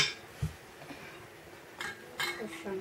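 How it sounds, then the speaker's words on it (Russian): A brief metallic clink of a spoon falling onto a dish while making gummy candy with condensed milk, followed by light kitchen clatter and faint voices in the background. "Ой, ложка упала."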